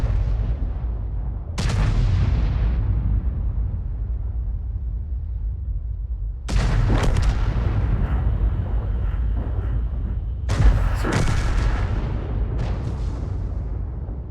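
Artillery in a tank video game, likely World of Tanks, thunders in several heavy booms with long rumbling decays, including distant firing and shell impacts, spaced a few seconds apart with no voices.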